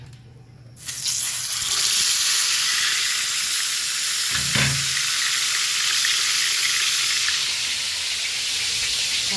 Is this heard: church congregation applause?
no